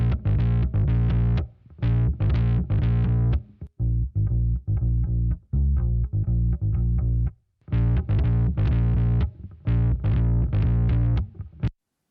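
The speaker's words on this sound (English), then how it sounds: "That's the actual drive part of this bass sound." Fuzz bass driven through a SansAmp drive effect, a gritty, distorted bass riff played in loud choppy phrases with short gaps, dense and saturated, with no voices.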